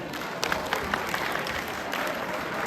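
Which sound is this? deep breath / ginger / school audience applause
school audience applause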